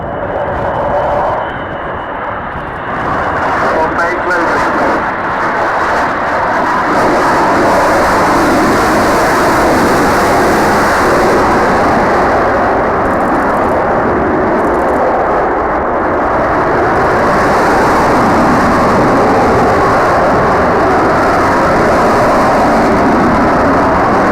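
Avro Vulcan bomber making a turn at the Dunsfold 2014 air display, a loud, continuous, broad jet roar that holds steady throughout with little change.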